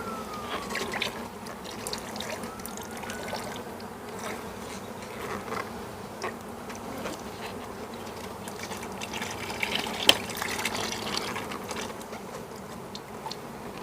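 A steady, dense buzzing of many honey bees at a hive hums continuously, with a faint watery trickle and light clicks underneath.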